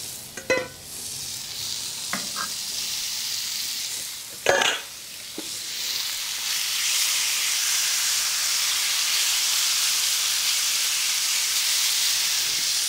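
Oil sizzling on a hot griddle while cooking fajitas, a few clanks and scrapes of a utensil early on, then a steady bright hiss of frying that swells and holds loud to the end.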